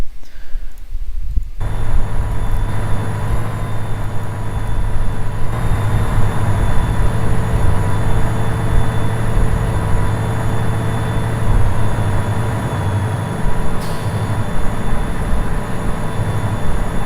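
An Amtrak train runs in the Trainz railway simulator, a loud, steady engine rumble with a constant hum and faint high whine that carries on alone from start to end.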